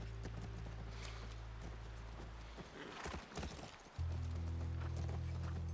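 Horse hooves clip-clopping at a steady walking rhythm near a ranch in the video game The Last of Us Part I, over a low engine-like hum that drops out briefly and then returns louder.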